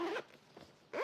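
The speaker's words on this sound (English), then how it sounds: "Zip it up." A Victor racket bag being zipped shut, packed full with a racket and shoes: two loud rasping zipper pulls at the start and end, with a softer brief rustle in between.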